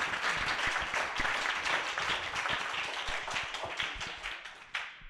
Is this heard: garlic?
no